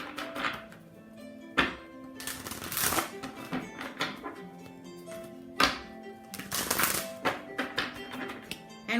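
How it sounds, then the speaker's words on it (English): An oracle card deck is shuffled and handled with a card drawn, giving soft papery riffles, taps and a few sharp thunks spread across the stretch, fairly close, with no one talking. "Let's take out an oracle card."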